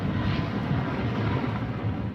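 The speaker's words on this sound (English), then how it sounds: "a couple of helicopters operated by the Taliban, ferrying in people and supplies and taking the casualties out" Helicopters ferrying people and supplies to an earthquake-hit mountain area, a steady distant engine drone that runs throughout at moderate level, with no voices.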